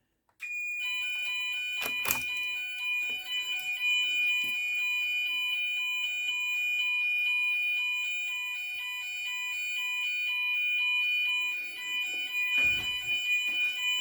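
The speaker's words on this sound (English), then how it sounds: "The buzzers in Vigilons are really loud." A GENT Vigilon fire alarm's buzzers sound during a call point test: a loud, steady, piercing electronic tone holds continuously for over ten seconds, with a pulsing sounder beneath and a couple of sharp clicks.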